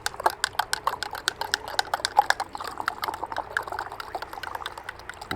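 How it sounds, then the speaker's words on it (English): Neem is stirred into a container of water in a garden pest-control mix, giving quick, regular swishing and clicking strokes up close, repeating briskly throughout. "I'm gonna stir for a while. This is gonna help the neem dispose into the water."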